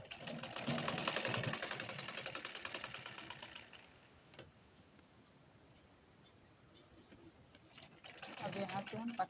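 A sewing machine stitches a folded hem on a border blouse, whirring loudly for several seconds, falling quiet while someone talks, then starting up again at the end.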